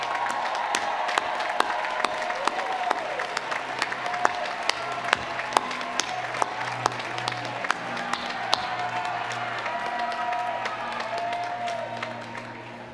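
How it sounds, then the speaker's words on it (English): Graduating students stand at a university commencement ceremony as the crowd gives them a sustained round of applause, dense clapping with scattered sharp claps and faint cheers over about thirteen seconds, fading slightly at the end. "Will those who are graduating early please stand so we can give you a well-deserved round of applause"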